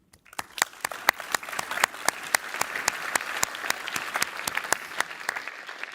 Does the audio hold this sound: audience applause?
yes